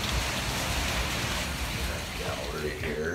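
Steady rain pattering on surfaces outdoors in Thailand, a constant wash of hiss, with faint voices in the background.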